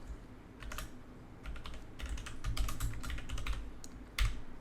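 Bursts of clicky keystrokes on a computer keyboard as a field name is entered into a database, fairly close and moderately loud, coming in irregular clusters with short pauses, alone with no talking.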